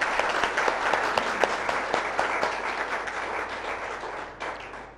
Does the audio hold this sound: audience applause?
yes